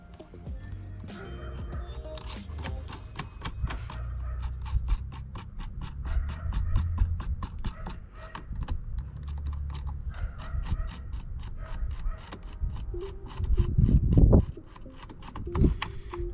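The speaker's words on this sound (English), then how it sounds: "Now you can always come back with the small wrench and tighten them" A small wrench tightens the grille bolts on a 2005–2006 Acura RSX Type-S, a long run of rapid close ratcheting clicks with metallic scrapes and a few louder knocks near the end.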